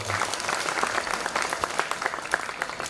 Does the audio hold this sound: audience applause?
yes